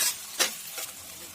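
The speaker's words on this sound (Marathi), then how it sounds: "हा कांदा छान भाजून घ्यायचा आहे आणि थोडंसं तेल पण याला जास्त लागतं" Chopped onion frying in a generous amount of oil hisses in a pan, with two or three quick bursts of stirring over a soft constant sizzle.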